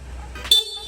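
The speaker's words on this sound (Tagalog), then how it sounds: "Sir, stock horn." A single short honk from a stock Honda Click V3 motorcycle horn, a brief bright toot rising out of a quiet idling background.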